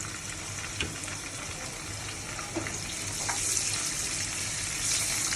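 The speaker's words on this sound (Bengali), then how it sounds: "পেঁয়াজটা একটু ভাজা ভাজা হয়ে গেছে" Onions frying in a pan, a steady soft sizzle with a faint crackle and a few light utensil taps, close but fairly quiet and continuous.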